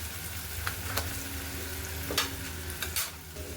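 Ground spice paste sizzles and fries in a pan while being stirred. The frying hiss is steady and close, with scraping clicks from the stirring scattered throughout.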